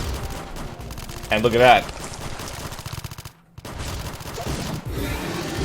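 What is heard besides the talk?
gunfire and Metroid being attacked in AM2R video game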